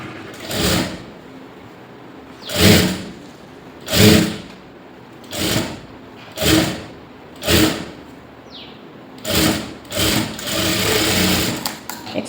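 A sewing machine stitches a lined blouse in short repeated bursts, about nine runs of motor whirr separated by pauses, close and clear with no talking.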